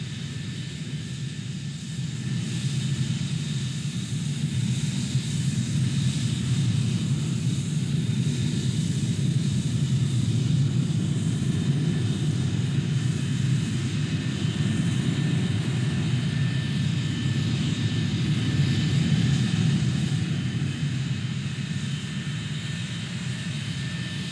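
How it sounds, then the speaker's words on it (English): Formation of F-86 Sabre jet fighters flying overhead, a steady, loud, sustained roar with a deep rumbling core and faint high whine, continuous for the whole stretch with no voices. "sometimes as many as 80 aircraft would fly in complicated formations, demonstrating aerial skills"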